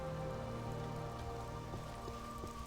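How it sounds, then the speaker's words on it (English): Steady rain falling in the video game Morrowind with the Tamriel Rebuilt mod, a constant even patter of drops on surfaces with no speech. "Uh-oh, it's raining."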